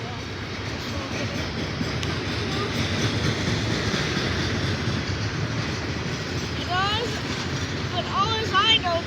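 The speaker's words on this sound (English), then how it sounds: "this is a stinky, stinky train" Loaded trash freight train rolling past near the tracks in Cresson, a continuous heavy rumble with wheel clatter and brief squeals toward the end, while people talk over it.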